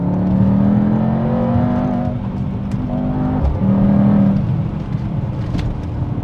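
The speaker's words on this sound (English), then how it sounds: "You can hear pops and bangs coming from the exhaust. Coming out of a bend, full throttle." A Mercedes-AMG GT 63 E Performance at full throttle coming out of a bend, its engine roaring loud and close with rising revs, a brief shift dip, and sharp exhaust pops and bangs crackling over the drone.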